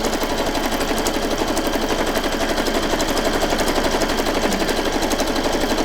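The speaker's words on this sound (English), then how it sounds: "I'm just sewing away here. I'm going to sew right off the edge." A sewing machine stitches through a paper journal page with a fast, loud, continuous mechanical rattle. The rapid, even clatter runs unbroken from start to finish.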